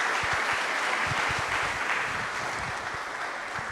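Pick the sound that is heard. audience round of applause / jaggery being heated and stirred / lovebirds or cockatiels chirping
audience round of applause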